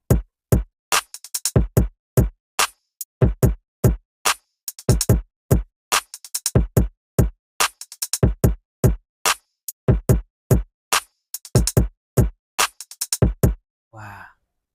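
A punchy hip-hop drum beat with crisp kicks and snappy hits repeats in a steady groove, loud and dry, ending with a brief vocal-like sound.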